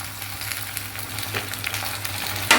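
Fenugreek seeds, turmeric and salt sizzle in hot oil for a gongura tempering, a steady close frying crackle with a brief stirring scrape near the end and no voices.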